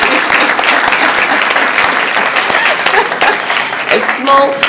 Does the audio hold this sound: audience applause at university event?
yes